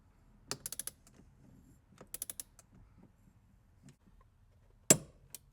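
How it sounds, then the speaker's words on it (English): A torque wrench ratchets as it tightens the steering wheel hub bolts on a BMW E46 drift car fitted with an NRG quick release, giving quick bursts of crisp clicks, then a sharp final snap near the end, with no voices. "I'm gonna try and torque it down with my torque wrench here"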